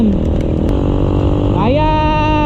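A motorcycle engine pulls steadily while riding on a road, its pitch climbing sharply as the rider accelerates through the gears. The loud, close drone is continuous throughout.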